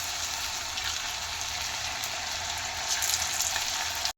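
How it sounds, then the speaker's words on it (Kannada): Pakoda frying in hot oil until golden brown, a steady, close, dense sizzle of bubbling oil that holds at an even level throughout with no talk over it. "ಇವಾಗ ಇದನ್ನು ಫ್ರೈ ಮಾಡ್ಕೊಂಡು ಇದನ್ನು ಗೋಲ್ಡನ್ ಬ್ರೌನ್ ಆಗೋವರೆಗೂ ಚೆನ್ನಾಗಿ ಫ್ರೈ ಮಾಡ್ಕೊಳ್ಳೋಣ"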